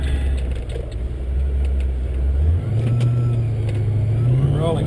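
Holden VE SSV ute, a 650 rwhp build with a T400 transmission, accelerating from a rolling start: a loud, steady engine drone near the microphone, its pitch stepping up partway through and climbing as revs rise.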